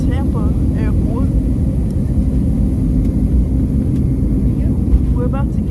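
Airliner in flight bound for Tampa, heard from inside the cabin as a loud, steady low engine rumble and roar, with a person talking over it.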